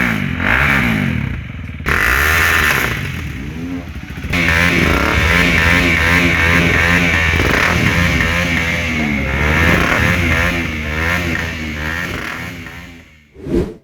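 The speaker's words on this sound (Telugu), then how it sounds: "మోటార్ సైకిల్ తాలూకు సైలెన్సర్లు పీకేసి దాంతో పెద్ద శబ్దాలు చేస్తూ బైక్ రేసింగ్ చేస్తూ" Motorcycles with their silencers removed race on a Visakhapatnam beach road, loud raw exhaust roaring and revving up and down close by, with brief breaks and a final sharp burst.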